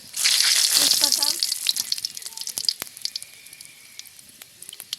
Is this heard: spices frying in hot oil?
yes